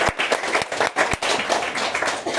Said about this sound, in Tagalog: Ang nakarinig pumalakpak